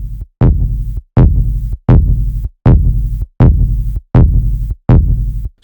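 DinyOSC synthesizer with its distortion effect engaged and the mix set by a pot: loud, gritty buzzing notes pulse in a steady repeating pattern, roughly eight bursts with short gaps of silence between them, and no talking.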